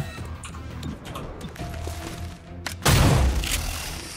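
Point-blank shotgun blast in the video game XCOM Chimera Squad: one loud, sharp boom with a brief crashing tail, cutting in abruptly over quieter game background.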